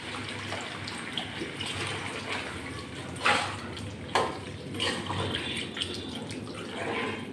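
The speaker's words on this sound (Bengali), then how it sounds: "এবার আমি জল দিয়ে দিচ্ছি।" Water poured into a cooking pan of bottle gourd curry with turmeric, a steady close splashing wash running throughout with a couple of brief louder splashes.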